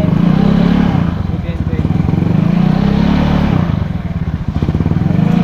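A Yamaha Mio Sporty scooter engine revs hard and bounces off its 9,000 RPM rev limiter, a loud, close buzzing drone that dips and surges repeatedly with a stuttering pulse while people talk over it.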